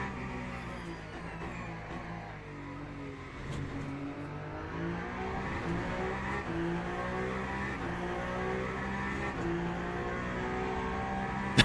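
A hypercar engine racing in the game Le Mans Ultimate: a loud, close, sustained drone whose pitch climbs and falls as the car accelerates and shifts, running throughout with no break.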